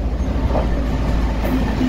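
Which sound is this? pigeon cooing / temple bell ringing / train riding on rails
train riding on rails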